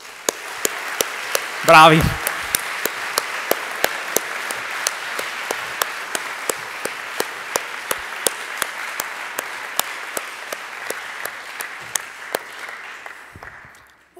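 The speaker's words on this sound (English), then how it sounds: "I want to prompt another round of applause for you." Applause at a university graduation ceremony: sustained, even clapping from an audience in a hall, with a brief shout of praise early on, then the clapping fades out near the end.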